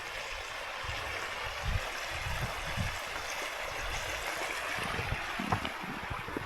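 Stream water flowing beneath Fasney Bridge in the Lammermuir Hills, a steady broadband rush with faint low rumbles and occasional knocks, moderately quiet and continuous, no voices.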